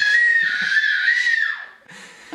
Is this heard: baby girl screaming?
yes